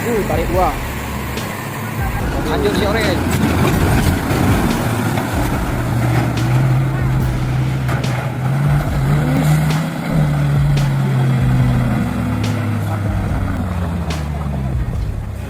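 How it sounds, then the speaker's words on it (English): A huge off-road truck's engine growls loudly as it charges through deep, thick mud, with a sustained low rumble that rises and falls as the revs change. "The huge truck, growling like a steel monster, bravely charged into the challenge."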